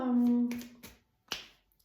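A single crisp finger snap rings out after a sustained spoken note, close and sharp, followed by quiet.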